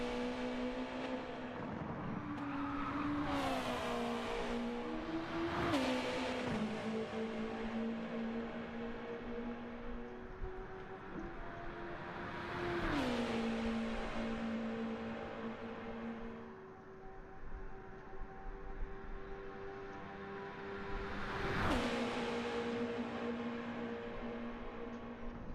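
Touring race cars lap a track in a Track Stars Touring Cars St Croix 1500 Top 6 shootout, their engines howling through repeated upshifts and braking drops, loud and close with several sweeping passes.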